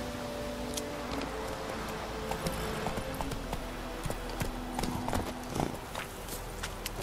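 Horse hooves clip-clopping in The Witcher 3 as a horse is mounted and set trotting, with irregular, moderately loud hoof strikes over a constant ambient hum and no speech.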